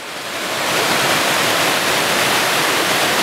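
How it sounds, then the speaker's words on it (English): The River Dane flows steadily on a Peak District walk, giving a loud, continuous broadband rush of water that fades in quickly and stays constant. "You've got the River Dane coming out here."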